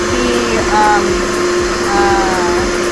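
An electric mixer's whisks beat egg whites for a Grand Marnier soufflé, giving a loud, continuous whirring hum that holds steady throughout, with a person talking over it.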